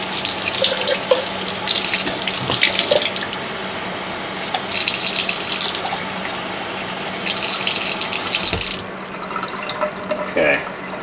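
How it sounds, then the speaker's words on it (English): Tap water running into a container for saving tomato seeds, filling it about halfway in three loud, close bursts with short pauses between them. "I'm gonna put a little water in here with this. Probably fill it about halfway up."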